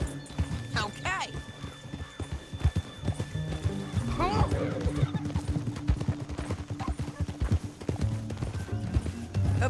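A horse's hooves clip-clop steadily on the ground in Red Dead Redemption 2, with a loud whinny near the start and another midway, among busy, full in-game noise.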